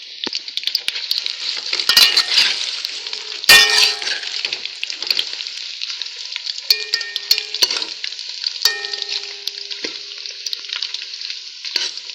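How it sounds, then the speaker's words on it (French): Fish fries in hot oil with a bright, crackling sizzle that carries through the whole stretch, punctuated by a few sharp clinks of a utensil against the pan. "Je vais veiller à ce que les deux côtés de mon poisson puissent frire dans l'huile"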